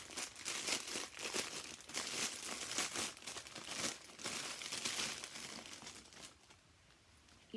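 Plastic packaging around a black puffer zip-top travel toiletry bag crinkles and tears as it is pulled open, a quiet, continuous rustle with brief louder crackles and no talking.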